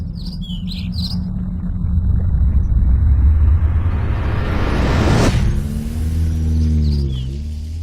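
Car accelerating hard as the gas is pressed: a swelling rumble builds to a sharp rushing peak, then settles into a steadier engine drone, with birds chirping in the background.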